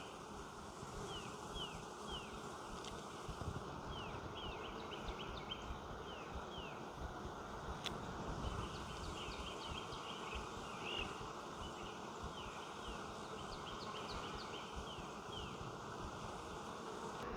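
Dense, steady buzzing of many bees massed together in a hive, continuous and close, with faint bird chirps high above the hum.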